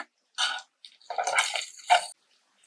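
A little water goes into a pan of butter garlic chicken, causing three short hissing, splashing bursts with brief quiet gaps between them.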